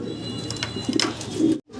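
Big-size fancy pigeons in a cage give a brief, close coo with soft throaty warbles, followed by a sudden cut.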